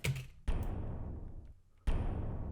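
Two deep, booming hits, each swelling into a dark, droning atmospheric wash that slowly decays, with a low rumbling bed underneath.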